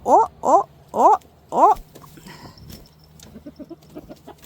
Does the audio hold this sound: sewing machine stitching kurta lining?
no